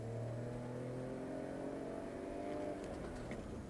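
BMW X5 engine wound out hard under acceleration on an open road, a steady loud drone with rising harmonic tones throughout, with no talking.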